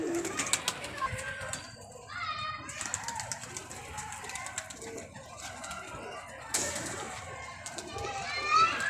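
Pigeons coo and flutter nearby in a loose, irregular rhythm, mixed with children playing and people talking in the background.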